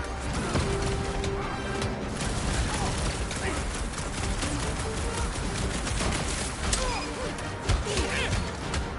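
Gunfire in Guardians of the Galaxy crackles nonstop amid dense combat noise, a steady barrage of close shots, impacts and crashes.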